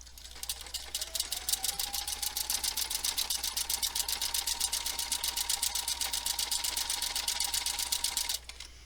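An embroidery sewing machine stitching laser pictogram stitches, a fast, even, rapid-fire mechanical clatter heard up close, running steadily for several seconds before stopping abruptly.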